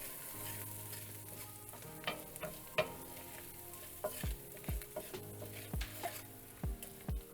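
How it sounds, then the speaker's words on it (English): Chickpeas and carrots coated in ground cinnamon and other spices are stirred in a pan, with several scraping strokes over a faint, steady sizzle. "So we're gonna stir these. Get the spice all over our chickpeas."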